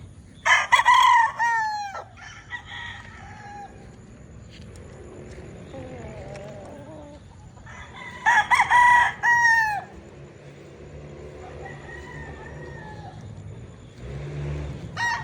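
A Golden Boy rooster in chilly Tagaytay crows twice, each loud, ringing call rising and trailing off, with a long gap between them over a steady low background rumble.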